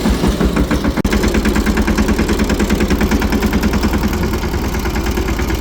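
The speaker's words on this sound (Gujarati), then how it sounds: "આપણું આ કાકડીવાળું ટ્રેક્ટર હતું એ આપણે વાડીએ મૂકતા હોય પાછું" A farm tractor used for hauling cucumbers runs steadily nearby, its engine idling in an even, throbbing pulse that continues loud and unbroken throughout, with no voices.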